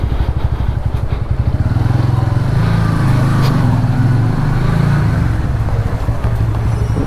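A Bajaj Pulsar N150 motorcycle engine runs close by with a steady, rapid, throbbing idle that stays loud and unbroken.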